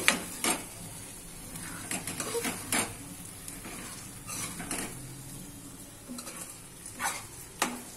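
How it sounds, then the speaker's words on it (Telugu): A spoon stirs egg masala curry gravy in a pan, scraping and clinking at irregular intervals, with a light sizzle from the pan underneath. Nobody speaks. "ఒకసారిగా మనం మిక్స్ చేసుకుందాం అన్నింటికి పట్టేటట్టు"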